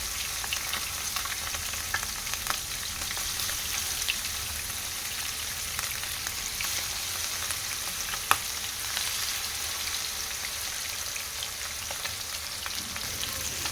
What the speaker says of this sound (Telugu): చేప ముక్కల్ని ఇలా పదిహేను నిమిషాలు ఇలా ఫ్రై చేసుకోవాలి